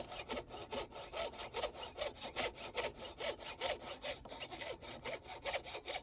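Steady back-and-forth strokes of a hand saw cutting through wood, close and rhythmic, about three strokes per second with no talking.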